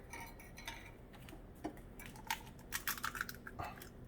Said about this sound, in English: Get the eggs cracked.